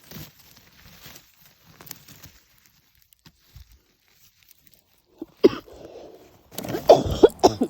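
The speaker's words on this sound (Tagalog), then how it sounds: "Inuubo na ang lola." An elderly woman coughs a few times outdoors on a cold evening while chanterelle mushrooms are being gathered, short harsh bursts near the end after quiet rustling.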